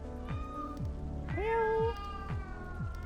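A cat companion in the video game Neverwinter gives a clear, rising meow over a steady game music bed, with a faint earlier mew beforehand.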